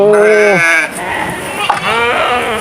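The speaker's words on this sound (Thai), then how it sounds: "ร้อยกว่าเลยทั้งแพะทั้งแกะ" Goats and sheep on a farm of over a hundred animals bleat loudly and close up, with several overlapping calls rising and falling, a long bleat at the start and more after, and someone talking.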